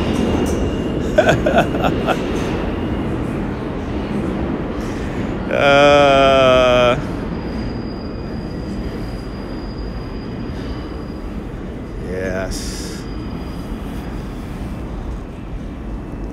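A subway train rumbles past in Lower Manhattan with loud metallic wheel squeals, one long screech and a shorter one later; a brief spoken word.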